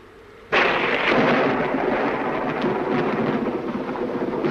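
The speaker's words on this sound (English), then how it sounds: "I love thunderstorms, don't you?" Thunder crashes in suddenly and loudly during a thunderstorm, a broad rumbling roar that stays heavy and rolling for several seconds with rain hissing underneath, close and alone.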